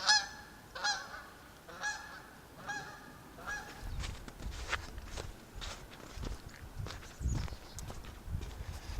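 A few geese honk in short repeated calls at the start near the Antietam Aqueduct on the C&O Canal, then footsteps and rustling take over for the rest.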